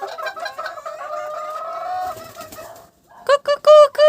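Hens and a rooster cluck in a busy, overlapping chorus, then a few loud, close squawking calls burst out near the end.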